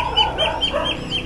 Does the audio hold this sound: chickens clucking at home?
yes